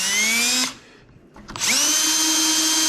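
A power drill drills a dimple into a hole in a firewood rail, whining at a high pitch. It stops for about a second, then spins back up and runs steadily to the end.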